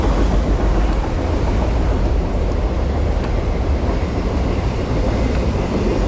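Train rolling past on railroad tracks near a hiking trail crossing, a steady loud rumble with broad low-frequency noise and wind buffeting throughout, no clear approach or fade.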